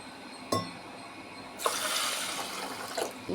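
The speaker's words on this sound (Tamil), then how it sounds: "இதே டம்ளரில் ஒரு நாலு டம்ளர் தண்ணி ஊற்றி" A glass clinks, then water pours steadily into a pressure cooker for a couple of seconds, with another light clink near the end.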